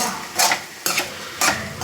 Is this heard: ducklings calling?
no